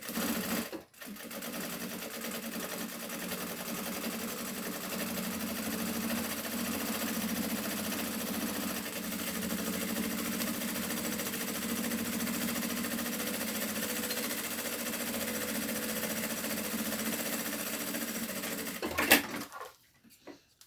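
A sewing machine runs a long-stitch safety seam through Teflon fabric, a steady close mechanical whir that holds for about eighteen seconds before stopping abruptly.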